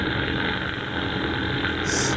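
A person snores with a steady, loud, rumbling drone much like a passing motorcycle engine, continuous and close throughout.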